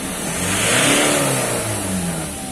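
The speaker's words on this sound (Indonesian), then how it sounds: "Geber sampai 4000." A Ford Ranger 2.2 diesel with a turbocharger fault is revved to about 4000 rpm, the engine note rising in one smooth, loud swell and then easing back, heard close up with no talking.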